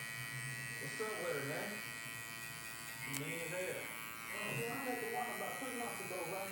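Electric hair clippers with a guard lever open buzz steadily during a bald fade slickback haircut, a close continuous hum running under a voice talking throughout.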